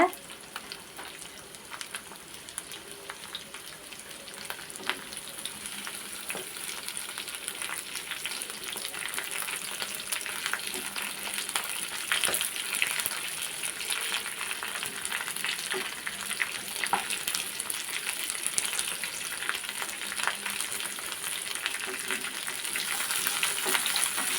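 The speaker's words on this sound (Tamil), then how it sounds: "அடுப்பை கொஞ்சம் ஹை ஃப்ளேமில் வச்சு நல்லா வதக்கிக்கோங்க" Red chillies sautéed in oil on a high flame in a pan, making a steady, dense sizzle and crackle throughout, with occasional stirring scrapes and no talking.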